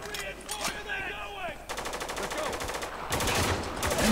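Rapid gunfire in the war shooter Spec Ops: The Line, with bursts of automatic fire and sharp shots cracking over battle noise and game voices, growing denser and louder toward the end.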